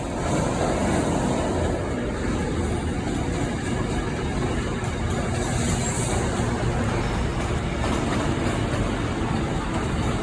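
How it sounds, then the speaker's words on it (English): A very long train passes on the West Coast Main Line at Carlisle, its rumbling wheels and roar holding loud and constant close by for the whole stretch. "It's a very long train."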